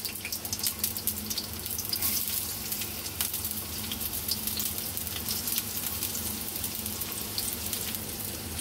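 Chopped onion and garlic fry in hot oil in a kadai for a dried-fish shutki bharta, giving a steady, close, dense sizzle that crackles on throughout with no voices.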